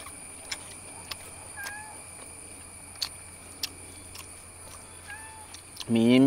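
A cat meows near fish curry in a Kerala village kitchen where anchovy peera is being made: two short, fairly faint meows with scattered light clicks, then a voice begins speaking at the very end.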